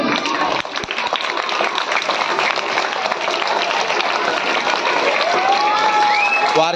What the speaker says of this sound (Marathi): सगळ्यांनी टाळ्या वाजवायच्या त्यासाठी.